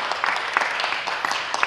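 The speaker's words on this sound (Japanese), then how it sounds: "拍手お願いします" Brief, moderately faint applause from a small audience at a community talk in Tsuruoka, scattered overlapping claps over a short stretch.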